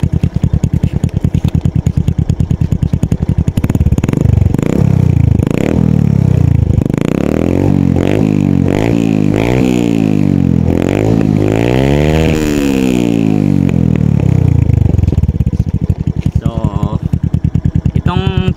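A Honda Smash 115 motorcycle fitted with a new plug-and-play Power Pipe exhaust revs hard about a metre away, with loud repeated rising and falling throttle blips over a steady rough idle.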